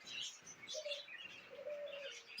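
Caged birds in a bird shop, including lovebirds and doves: soft cooing and quick chirps overlap in a faint, busy chorus that continues throughout.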